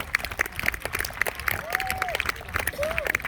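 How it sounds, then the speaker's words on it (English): A crowd at a jousting tournament claps for a solid hit. The scattered applause sits under a commentator's voice over the arena. "round of applause for that"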